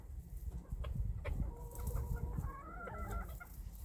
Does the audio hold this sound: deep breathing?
no